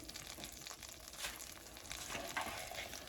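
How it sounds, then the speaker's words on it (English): Shallots and onions frying in a well-heated pan, giving a steady close sizzle and crackle with a few soft stirring movements, without talk. "We're going to put the rest of our shallots and onions in"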